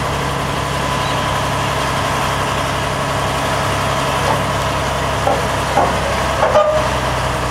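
A military truck's engine idles with a low, steady rumble while hydraulic rams lift a flat rack at a military vehicle show, with a few faint clunks and creaks near the end.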